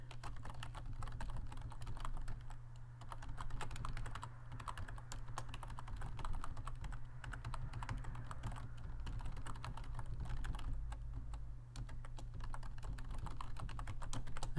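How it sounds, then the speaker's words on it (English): Someone types on a non-ergonomic computer keyboard in a workshop, fast irregular key clicks running continuously over a faint low steady hum. "I type on this weird fucking keyboard whenever I'm out here."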